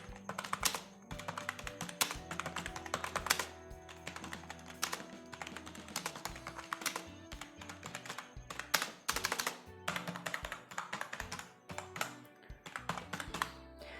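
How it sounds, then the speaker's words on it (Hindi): Someone types on a Zebronics gaming keyboard, a budget non-mechanical board, producing quick, close clusters of plastic key clicks and clacks in irregular bursts with short pauses, and no voices. "गेमिंग कीबोर्ड है तो आप सुन के बताइएगा।"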